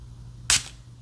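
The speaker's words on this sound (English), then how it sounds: "I'm just gonna spray it in the bag because I don't want to spray it on me." A single short burst of perfume sprayed into a bag, close and crisp, lasting about a quarter second against a quiet background.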